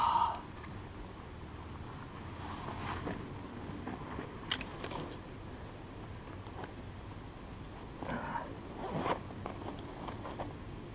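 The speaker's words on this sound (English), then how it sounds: "Zippers are bouncing around a little bit, making some noise" Zippers on an electric fat bike rattle and clink in irregular bursts against steady outdoor rumble and wind at Browns Camp in the Coast Range, louder near the start and again toward the end.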